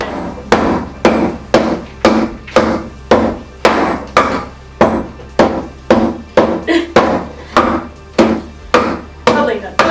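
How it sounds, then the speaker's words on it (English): Steady hammering on the head of a Silky axe driven into wood to split it: sharp, loud, evenly spaced strikes about two per second, close up and with no voices over them. "I think you're supposed to be hammering the other end, not the handle so much."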